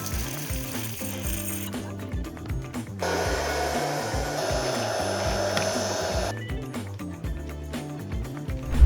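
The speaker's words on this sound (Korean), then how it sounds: "그럼 저는 일단 3단계로 볶아 볼게요." A home coffee roaster runs at its third roast level, giving a steady whirring fan and motor drone with a brighter rushing hiss through the middle, loud and close, with no talking.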